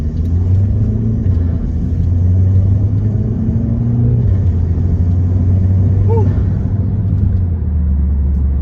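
A tuned Audi A3 8V 2.0T with a Stage 1 and DSG tune accelerates, giving a loud steady engine rumble heard from inside the car, with rising and shifting tones, while a person talks over it.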